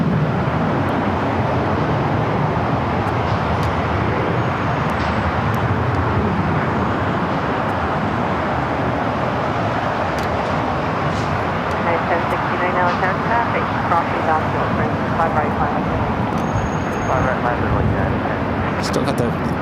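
A Fiji Airways jet arriving from Nadi lands on the south side of LAX. Its broad, steady roar fills the scene and stays loud and unbroken throughout, with no clear peak or pause.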